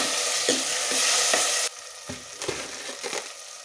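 Green chillies and tomatoes frying in a pan for fish curry, a loud, steady sizzle that abruptly quietens partway through, followed by soft stirring and scraping sounds.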